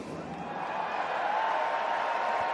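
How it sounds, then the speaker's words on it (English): A rugby stadium crowd cheers loudly for a retiring Wales player at a Barbarians versus Wales match. The dense, sustained roar grows a little stronger midway and carries on. "And the cheer is loud as well for him."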